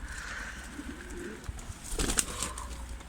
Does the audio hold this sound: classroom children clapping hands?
no